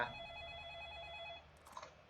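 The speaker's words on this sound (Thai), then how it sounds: "มีคนโทรศัพท์มาหาเรา" A telephone rings with a steady electronic trill in a horror video game set on a Home Alone map, then cuts off after about a second and a half, followed by a faint clatter.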